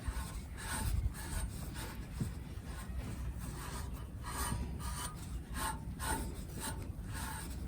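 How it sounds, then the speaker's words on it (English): A microfiber cloth is rubbed over a Mini Cooper exhaust tip, producing faint, soft, rhythmic wiping strokes repeating steadily at close range. "we just take our microfiber cloth, give it a bit of a dry off"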